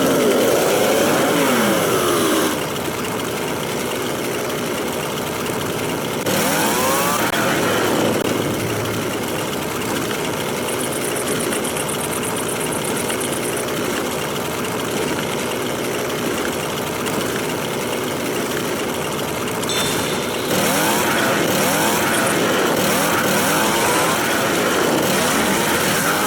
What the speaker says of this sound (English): Got a chainsaw.